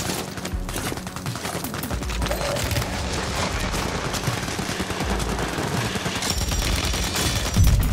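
Dense gunfire in the Warzone video game, with sustained rapid automatic bursts and booming shots packed together, loud and continuous throughout with no talking.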